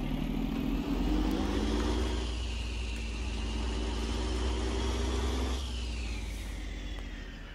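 A vehicle engine runs steadily in forward gear, a close, continuous low rumble that holds an even pitch and eases slightly toward the end, with no talking.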